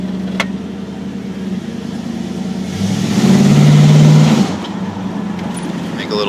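An Oldsmobile Cutlass in refreshed stock condition idles with a low rumble, then revs once, loud and close, before settling back to idle.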